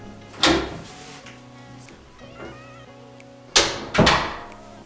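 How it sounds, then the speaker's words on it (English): Three or four hollow wooden knocks and thuds of a door swinging on its hinge, close by, separated by quieter stretches with a faint steady hum. "Rub it in, move the door a little bit"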